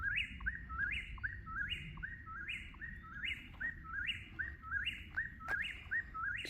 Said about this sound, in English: That bird is having at it.